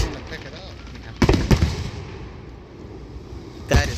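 Fourth of July fireworks bursting outdoors: several loud booming cracks, two close together early and another near the end, over a crowd's background chatter.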